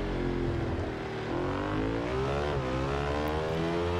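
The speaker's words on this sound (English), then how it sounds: "It is nice to actually hear a bike noise and exhaust notes after the silence of the electric bike." A video game motorcycle engine drones steadily, its exhaust note rising and shifting pitch as it revs through gears, loud and continuous.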